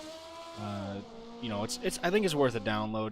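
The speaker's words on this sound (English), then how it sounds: "It's got a pretty loud engine for how small of a car it is." Datsun Bluebird vintage race car engine running in rFactor 2, a steady loud drone beneath someone talking over it throughout.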